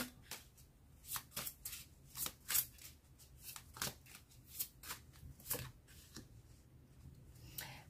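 Tarot cards are shuffled in quiet, rhythmic riffles and soft slaps, about a dozen crisp bursts spaced roughly half a second apart, close by with no talking.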